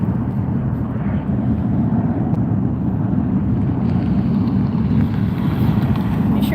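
An airliner passes at Las Vegas airport, a broad roaring rumble that holds steady and brightens slightly as it nears, heard from a distance with wind noise and no talking.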